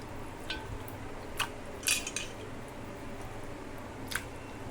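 Dishes being scrubbed and rinsed by hand in a home kitchen give a few scattered clinks and scrapes over a steady background of running water, close but quiet.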